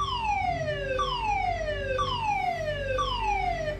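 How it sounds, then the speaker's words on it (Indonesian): A hydrocarbon leak warning siren wails, sweeping downward in pitch four times in a steady, repeating cycle, loud and continuous over a low background hum. "Sinyal lampu kuning akan menyala jika terjadi kebocoran hidrokarbon disertai dengan bunyi sirine berikut."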